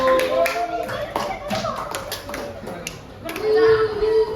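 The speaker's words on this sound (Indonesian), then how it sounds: "berikan tepuk tangan buat kelompok 1" Children in a fifth-grade elementary classroom clap for a student group. The clapping is light and scattered, with a few sharp taps, and children's voices chatter throughout.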